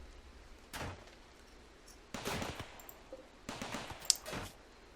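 Turret gunfire aimed at a mad emu in Rimworld, heard as three separate bursts of sharp shots, moderately loud over a faint background, with short gaps between them.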